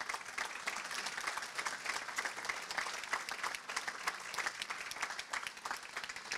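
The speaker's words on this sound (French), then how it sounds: "merci de les applaudir." Steady applause from an audience at a public speech, dense clapping filling the room at an even, moderately loud level with no voices on top.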